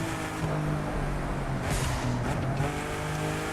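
A car engine in the racing video game The Crew 2 roars steadily and loudly throughout, with brief tire squeals breaking through near the middle.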